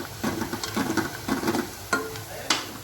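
Onion frying with mustard seeds, cumin and garlic, browning in a pan, gives a soft sizzle broken by several stirring scrapes at an uneven rhythm, close and fairly quiet.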